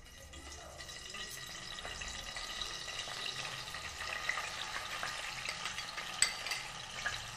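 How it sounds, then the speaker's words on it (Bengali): Onion paste sizzles and crackles in hot oil with tempering spices, a steady close frying hiss with occasional stirring scrapes and pops. "ফোড়নের গন্ধ বেরোলে এবার আমি দিচ্ছি পেঁয়াজ বাটাটা"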